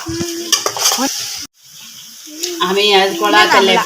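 Masala sizzles and is stirred in a pan in a home kitchen, with scraping strokes and frying crackle, briefly cut off midway, while a person talks over it.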